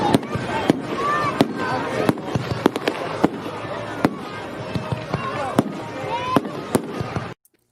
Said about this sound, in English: Shot you some fireworks.